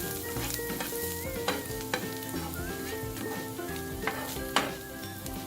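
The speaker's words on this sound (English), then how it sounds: "The reason that I'm frying the ginger and the chilli is to get their flavors" Ginger and chilli sizzle and crackle steadily in oil in a pan, with occasional sharp clinks and scrapes of stirring; no talking.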